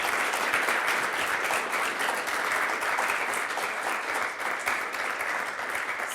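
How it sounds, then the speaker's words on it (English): An audience at a campus talk applauds continuously, dense close clapping from a roomful of people holding steady for several seconds. "Please give them a round of applause for their remarks."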